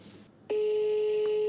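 Steady electronic ringback tone starts suddenly on an outgoing phone call, holding a single continuous pitch after a brief quiet stretch.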